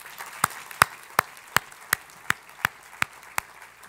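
Audience applause at a summer institute event, heard as evenly spaced sharp claps in a steady beat, about nine in four seconds, with no voices.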